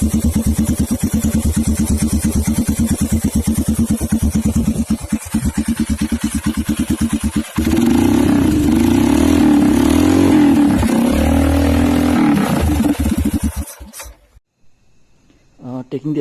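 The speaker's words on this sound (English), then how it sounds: "This is how the exhaust sounds of the flat track Himalayan." Close recording of a Royal Enfield Himalayan flat-track build with an SC Project exhaust: a steady, loud idle with a pulsing beat, then a sharp rev that holds briefly before the engine cuts and goes quiet, with a voice near the end.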